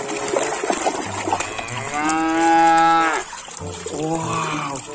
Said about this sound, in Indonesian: Ini hewan sapi